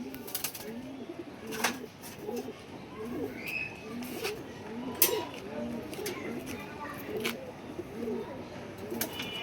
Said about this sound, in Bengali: খুব সুন্দর একটা নর কবুতর।